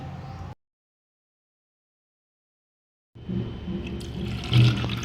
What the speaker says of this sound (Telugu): ఒక కప్పు శనగలను ఒక గిన్నెలో తీసుకొని వాటిని టూ త్రీ టైమ్స్ వాటిని శుభ్రంగా క్లీన్ చేసుకోవాలి